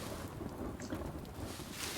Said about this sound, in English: Let's see if the storm passes soon